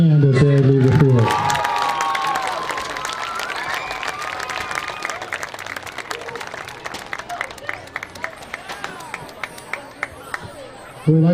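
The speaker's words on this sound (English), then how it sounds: "Let's give our band another big hand as they leave the field" A high school varsity football crowd breaks into loud applause and cheers as the band leaves the field, starting strong with overlapping shouts, then thinning to scattered claps and chatter.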